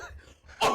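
A man imitates a loud, foghorn-like smoker's cough with his voice: a single harsh, forceful burst near the end, following a stretch of quieter breathy sound.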